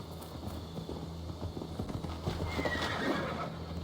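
In the video game Assassin's Creed Valhalla, a horse whinnies over steady clip-clopping hooves and a low droning hum, with the neighing rising loudly near the end.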